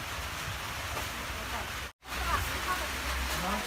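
Steady rain falls throughout on an outdoor holy basil farm, a broad continuous hiss with one brief dropout near the middle and faint voices underneath.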